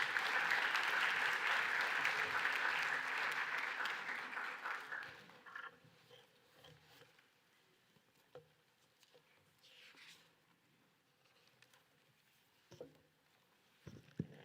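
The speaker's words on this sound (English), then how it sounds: "Let's give a round of applause again for Dean Bell." An audience applauds at a commencement ceremony for graduates, a dense, steady roar of clapping for about five seconds that tapers off into a quiet hall with scattered small noises.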